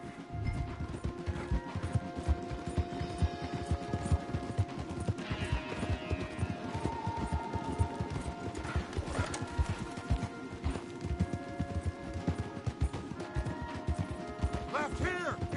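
Rapid hoofbeats of galloping horses in the video game Red Dead Redemption pound continuously under busy clattering and mechanical noise, with occasional crashes and a few voices mixed in.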